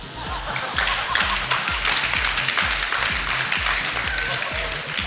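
Studio audience at a televised dance show's grand opening ceremony claps steadily and loudly, with dense overlapping claps and a rhythmic low beat running underneath throughout.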